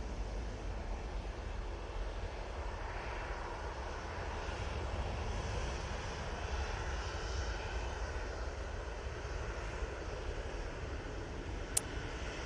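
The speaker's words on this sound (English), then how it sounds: "There's the Eurowings coming in from Dusseldorf. Using their A320neo." A Eurowings Airbus A320neo lands at Manchester Airport on arrival from Dusseldorf, its engines giving a moderate, continuous low rumble and hiss that stays fairly even from start to finish, with no talking.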